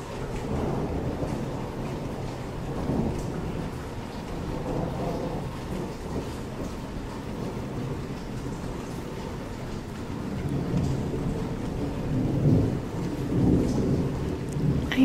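A thunderstorm: steady rain hisses throughout while low rolling thunder rumbles underneath and swells louder toward the end, with no voices.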